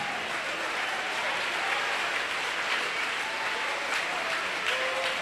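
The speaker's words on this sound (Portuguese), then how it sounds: "Desocupem as mãos, batam palmas e glorifiquem a Jesus." Church congregation clapping hands together in steady, dense applause throughout, loud and continuous with faint voices mixed in.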